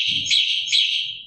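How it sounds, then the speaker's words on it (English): A remote dog training collar gives a shrill, steady electronic whistle with two slight swells, close and alone. "the next one, number 2, is a whistle"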